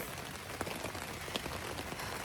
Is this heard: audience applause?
no